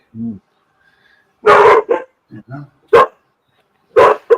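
A pet dog barks loudly and close by in several sharp bursts, with quieter yips between them, in a quiet indoor setting.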